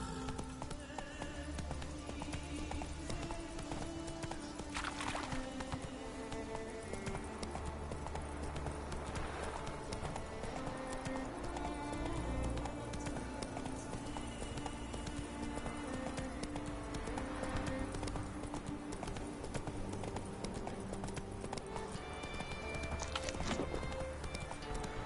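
Roach, the horse in The Witcher 3, gallops in rhythmic clip-clop hoofbeats that run steadily for a long stretch under ambient game sound, with an occasional snort or whinny and no talking.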